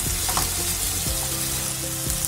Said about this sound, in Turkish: Domatesler suyunu salana kadar, bırakana kadar kavurma işlemine devam ediyorum.